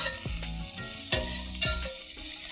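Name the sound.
yellow onions frying in avocado oil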